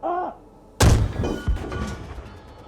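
A tank cannon in a tank simulator video game fires one sudden, loud booming shot that rumbles away, with a smaller thump shortly after. A voice shouts just before the blast.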